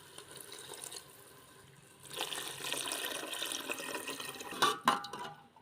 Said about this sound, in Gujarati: હવે થોડુંક પાણી નાખીશું આની અંદર